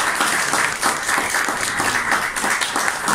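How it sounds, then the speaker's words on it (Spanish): Audience applause at a ceremony marking a radio station's 80th anniversary: a steady, dense round of clapping from a large crowd, sustained at even loudness for several seconds with no talking over it. "Un aplauso para nosotros."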